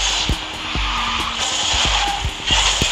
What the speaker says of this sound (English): Oh, a lot of jumping, jump drift.